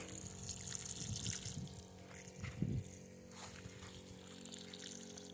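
Water poured from a can trickles steadily onto the bases of chili plants in a partly weeded field, a close, continuous splashing and dribbling with a few heavier gushes along the way.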